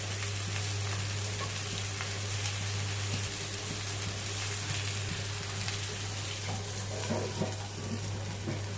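Onions sizzle steadily in a hot pan, a continuous frying hiss over a low hum, with an occasional stir near the end.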